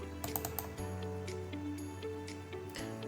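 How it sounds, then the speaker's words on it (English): Several quick computer mouse clicks, including a double click, tap out faintly and close, light crisp ticks over a low background hum while editing a logo mockup at a desk. "I'll double click on it again"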